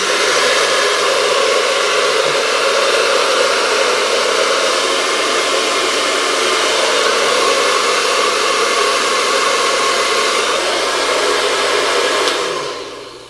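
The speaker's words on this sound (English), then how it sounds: "then following it with my blow dryer nozzle" A blow dryer with a nozzle runs steadily and loudly at close range while hair is dried over a round brush. The even, continuous whoosh eases slightly near the end before switching off.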